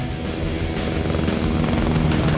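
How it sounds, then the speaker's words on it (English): Loud, steady helicopter rotor and engine noise during a low flight skimming bushes toward a Mount Kenya trailhead, a constant close drone with rapid blade chop throughout. "The only way we're going to make it up there is by chopper."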